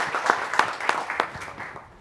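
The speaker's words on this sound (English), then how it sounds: "And a round of applause for Cindy." Scattered audience applause at a panel event on Latino voter polling, a handful of distinct claps in a loose rhythm that thin out and fade within two seconds.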